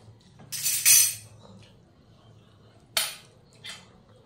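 A spoon clinks sharply against metal dishes during a Bengali meal of bhorta with rice, a bright scraping clatter near the start followed by a pause, then two short separate clinks, close and clear in a quiet room.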